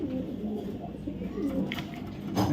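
Racing pigeons coo in soft, low, repeated rolling calls close by, with a faint murmur of voices and a brief knock near the end.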